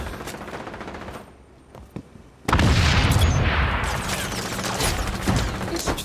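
A frag grenade explodes in XDefiant multiplayer as a sudden loud blast with a broad, sustained rumble, followed by continuing gunfire and battle noise. Sharp shots come before the blast.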